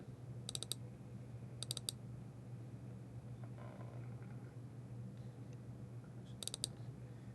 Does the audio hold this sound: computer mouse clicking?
yes